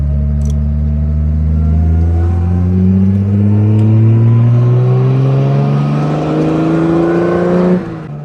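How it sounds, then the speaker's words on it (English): A 1952 Jaguar engine revs hard on a downshift into third, a loud close drone with rising harmonic sweeps and a throttle blip, then cutting off sharply near the end. "Oh, there's a lovely downshift there into third. Bit of rev blip in it, just helps the cogs engage."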